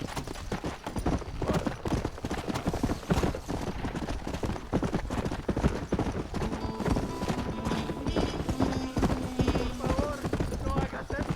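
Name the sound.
horse hooves in the video game Red Dead Redemption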